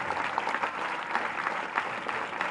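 An audience at a school program in Kusumanchi applauds in a continuous, lively patter of many hands clapping at once, holding steady throughout.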